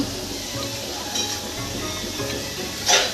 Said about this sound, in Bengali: সব সবজিগুলো এখন ভাজছি ফ্রাইড রাইস হবে